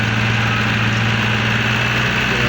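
A Ghazi brand tractor engine idles with a loud, steady low throb and hum, running continuously and close by.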